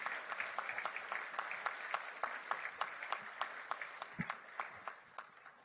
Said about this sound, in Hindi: आप अपने लिए जोरदार तालियां बजाएं